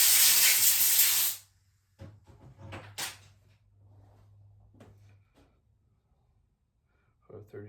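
Compressed air blows off a Husqvarna chainsaw carburetor in a loud, close hiss lasting just over a second. Quiet handling clicks, knocks and soft voices follow.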